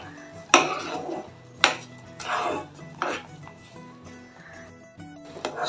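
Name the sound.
stirring sugar into semolina and hot water in pan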